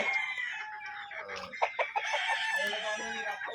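A fighting rooster crows loudly nearby, one drawn-out call with a quieter bird and faint voices in the background.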